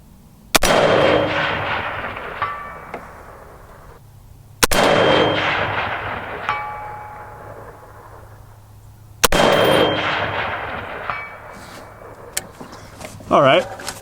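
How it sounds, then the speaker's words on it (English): An FN SCAR 17S rifle topped with a 1-10x scope fires three loud, sharp shots at long range, each about four seconds apart and followed by a long ringing echo tail, with no talking. "Those were among some of my first shots at this distance with the 17S"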